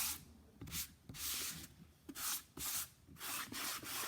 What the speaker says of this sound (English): I'm just using the super fine sanding block that's already been used.